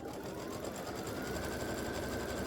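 A sewing machine tacks down quilt batting and fabric with a continuous fast mechanical whir, steady and fairly faint throughout.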